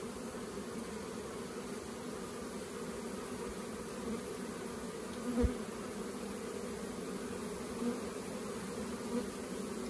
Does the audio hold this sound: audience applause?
no